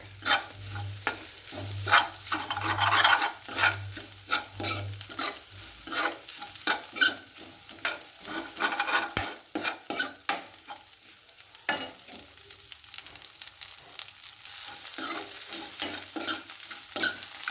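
Egg fry being stirred in a pan with a ladle, repeated scraping and clinking strokes in an uneven rhythm over a soft sizzle, close and moderately loud, with a low hum early on.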